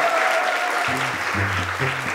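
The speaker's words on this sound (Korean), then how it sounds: "자, 이렇게 많은 분들 대박 나시라고 감사의 박수 부탁드리겠습니다" A studio audience at a Korean talk show claps briefly while low musical tones come in underneath, a loud, close wash of applause lasting only a couple of seconds.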